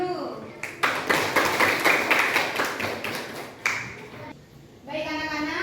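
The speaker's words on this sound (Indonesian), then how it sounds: "Tepuk tangan dulu" Schoolchildren clapping in a classroom during a debate lesson, a string of sharp, fairly regular claps that pause briefly before a teacher's voice comes in.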